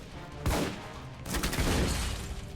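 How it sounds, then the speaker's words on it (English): Gunfire in the video game Alpha Protocol: a sharp burst of shots, then a longer ragged volley of rapid overlapping rounds, loud and close, with no talking. "Who is shooting?"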